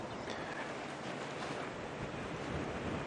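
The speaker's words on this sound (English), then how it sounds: "they're not enjoying this buffeting wind" Strong wind buffets the microphone on an outdoor safari drive in the African bush, making a continuous loud roaring rush with no pauses and no speech.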